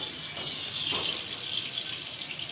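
About one and a half cups of cooking oil pour into a pan: a continuous, fairly loud liquid hiss and splash that runs unbroken from start to finish, with no talking.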